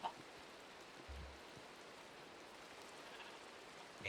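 Steady Minecraft rain, a soft, even hiss of pattering drops that fills the whole stretch at a quiet, constant level, with no voices over it.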